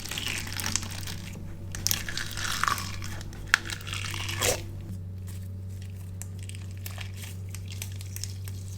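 Slime being squished and stirred by hand, a steady run of wet crackling, crinkling squelches up close with a low steady hum underneath and a couple of sharper pops mid-way.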